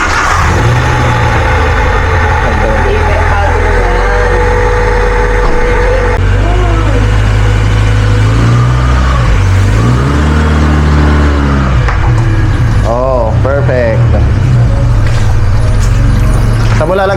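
A car engine at a home in Batangas turns over and settles into a steady low idle, with a rumbling hum that holds close and loud and a few faint voices in the background.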